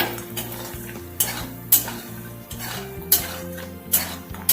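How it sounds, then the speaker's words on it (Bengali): Lentil bori frying in a small amount of leftover fish oil in a pan, with a soft sizzle, repeated sharp clinks and scrapes of a utensil stirring, and steady tonal background music throughout. "এর মধ্যে আমি একটু বড়ি ভেজে নিচ্ছি।"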